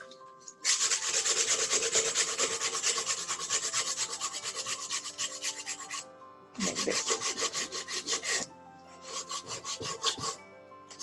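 Close, raspy scraping of sandpaper over wood in repeated strokes, stopping and starting a few times, with a brief spoken remark near the end.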